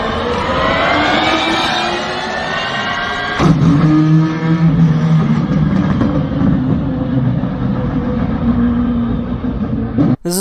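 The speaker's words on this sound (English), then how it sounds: "what it sounds like to switch from an electric motor to a combustion engine in the same car" A loud whining electric motor sweeps upward, then the same car's combustion engine kicks in with a deep rumbling drone that continues steadily, ending in a brief clunk.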